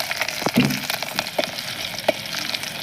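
Chilies fry in hot oil for tuver na thotha cooked over a stove, giving a continuous close crackling sizzle with a few sharper pops and spatters.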